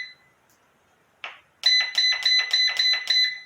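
Electric pressure canner control panel beeping as buttons are pressed while setting a high-pressure cook for canning green beans: a short single beep, then a rapid run of about seven evenly spaced bright electronic beeps, close and clear.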